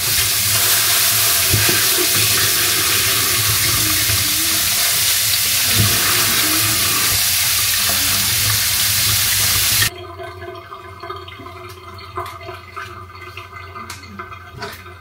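Squid is washed under a running tap, with loud gushing water and splashing for about ten seconds before the flow cuts off, leaving quieter drips and small handling sounds.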